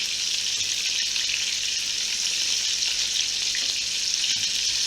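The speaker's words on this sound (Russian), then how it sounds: "Теперь еще раз переворачиваем и жарим еще раз." Steady, dense sizzling of minced-meat patties frying in a hot pan, a continuous crackle at close range with no talking.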